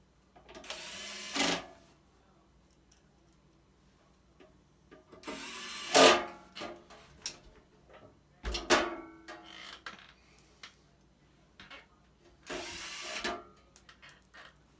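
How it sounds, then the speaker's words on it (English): Short bursts of a power driver whirring as screws go into the cover of an MP Series ozone generator, four separate runs of a second or so each, close and fairly loud, with quiet pauses between. "When you're putting the screws down, you want to make sure that all the holes do line up."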